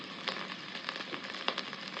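Cow or goat heart pieces frying in a pan give a steady, soft sizzle with small crackling pops throughout, close and fairly quiet, with no one talking.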